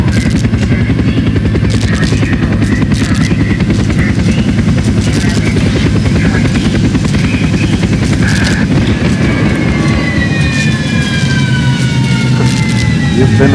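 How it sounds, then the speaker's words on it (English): A loud, steady rotor drone of a helicopter in the Call of Duty Black Ops game fills the scene continuously, with sharp bursts and rising whines layered over it near the end. "This chopper is toast."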